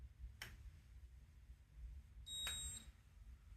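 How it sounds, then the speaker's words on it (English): An Outin Nano portable espresso maker gives a single electronic beep, short and fairly faint over low background hum. "hold the button for 2 seconds till the buzzer beeps once"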